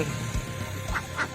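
Laying-breed ducks on a farm quack a few times nearby, short nasal calls spaced out over a low steady background rumble.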